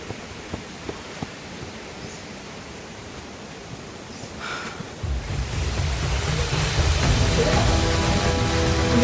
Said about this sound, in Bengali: ও, এই হচ্ছে খণ্ডধর ওয়াটারফলসের ভিউ।